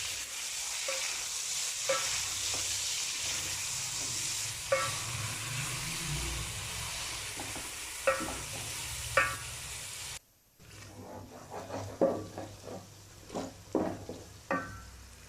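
Chopped tomatoes frying in a pan, a low continuous sizzle with scattered scrapes and clinks of a spoon stirring, quieter early on and then louder, busier stirring toward the end.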